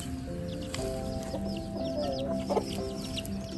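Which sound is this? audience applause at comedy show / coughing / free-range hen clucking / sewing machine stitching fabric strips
free-range hen clucking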